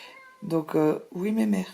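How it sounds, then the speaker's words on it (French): A cat gives three loud meows nearby in a home setting, each drawn-out cry close to the microphone, while someone speaks French around them. "C'est le chat qui vient miauler."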